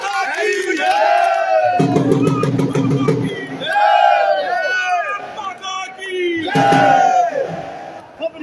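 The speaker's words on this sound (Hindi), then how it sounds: "एक बार जोरदार तालियां सुषमा के लिए" A crowd cheers and shouts loudly in repeated waves, with bursts of whooping and clapping-like noise swelling and fading, at a public welcome for Asian Games 2022 athletes.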